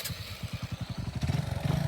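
A Hero Super Splendor motorcycle engine idles and revs in short rhythmic pulses, building to a steadier, louder throb near the end, close and alone without voices.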